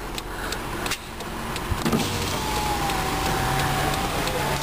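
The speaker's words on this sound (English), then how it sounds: "Automatic driver's side window." Automatic driver's side power window on a 2009 Dodge Journey SXT, a thin electric motor whine running steadily for about two seconds over a car's background hum.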